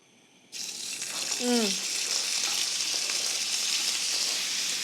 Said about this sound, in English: as I let my chorizo fry